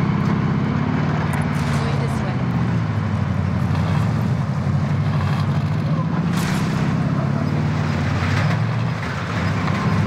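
A vehicle drives in Warzone, a loud, steady low engine rumble and road noise that continues for the whole stretch, with brief game voice lines mixed in.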